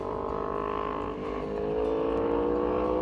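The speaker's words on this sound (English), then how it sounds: "That is a great sounding bike." A loud motorcycle engine, heard from the roadside, rumbles steadily and rises slightly as it revs past, with a continuous droning tone and no talking.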